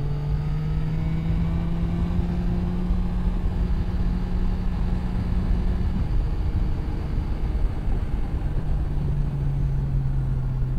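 A Yamaha Tracer 9 GT motorcycle pulls hard under open throttle, its engine note a loud continuous drone that rises, dips at a gear change, then settles, with heavy wind rush over it.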